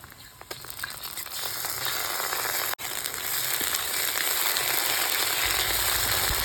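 Ginger paste frying in a pan with onion and garlic that have already browned, a steady loud sizzle and crackle running throughout, with one brief sharp dropout partway through.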